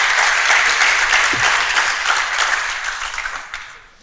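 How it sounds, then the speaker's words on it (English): An audience in a church congregation hall applauds a guest speaker, with dense, steady clapping that starts full and gradually thins and fades out toward the end. "Let's give Dr. Marx a round of applause"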